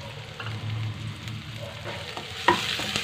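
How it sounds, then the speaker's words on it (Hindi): Onions sauté in hot oil in a pot, giving a steady soft sizzle with occasional stirring scrapes and a sharp clink near the middle, moderately quiet and close, with no talk. "अभी से मैं प्याज डाल रही हूँ, और प्याज को मैं हल्का सा बिल्कुल सौते करूँगी।"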